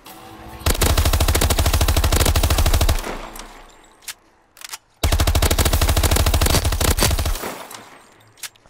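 Submachine gun fire in a video game, non-akimbo weapon, two long sustained automatic bursts of about two and a half seconds each with short taps between, loud and close.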